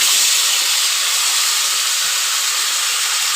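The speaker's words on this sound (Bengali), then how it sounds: "কড়াতে আমি সেই মাছ ভাজার তেলেই জিরে ফোড়ন দিয়ে দিয়েছি।" Cumin seeds tempering in hot oil left over from frying fish in a wok make a constant, loud, even hiss with no pauses or voices.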